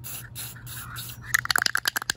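An aerosol can of enamel paint hisses in a long spray burst, then sputters in rapid short bursts as it runs low, close by and fairly quiet.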